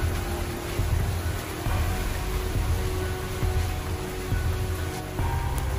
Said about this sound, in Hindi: ठीक से आवाज़ नहीं आ रही होगी बारिश की वजह से